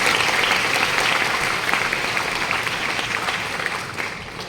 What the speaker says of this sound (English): can you just give a round of applause again to our professors for being with us here today